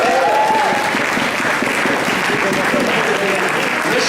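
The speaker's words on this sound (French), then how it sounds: "On applaudit Teresa." A steady wash of audience applause at a French slam poetry competition, loud and sustained, with crowd voices mixed in.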